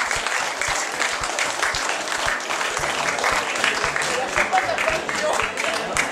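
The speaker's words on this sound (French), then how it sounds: "Allez, je pense qu'on peut les applaudir quand même." An audience applauds steadily and fairly loudly after a live hypnosis performance, dense clapping filling the whole stretch with a few voices and cheers mixed in.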